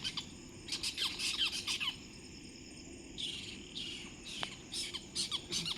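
Birds call outdoors in repeated harsh squawks and chirps, coming in bursts over a constant background of crickets and insects.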